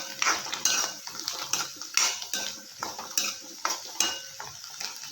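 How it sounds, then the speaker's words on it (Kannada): Turmeric and spices mixed in a pan for a puffed rice breakfast dish: quick metal spoon scrapes and clinks against the pan repeat in a brisk rhythm, close and clear, with a faint sizzle beneath. "ಚೆನ್ನಾಗಿ ಮಿಕ್ಸ್ ಮಾಡ್ಕೊಳ್ಳೋಣ."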